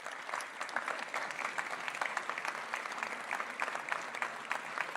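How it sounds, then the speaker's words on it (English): Steady applause from a seated graduation audience in San Francisco, with continuous dense clapping throughout, fairly even in loudness and slightly distant, no voices standing out. "Join me in applauding their energy, commitment, and impact to our community from these students."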